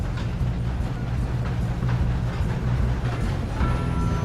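A moving train in Red Dead Redemption 2, a steady low rumble and rolling rattle of wheels and cars, continuous and fairly loud throughout with no talk.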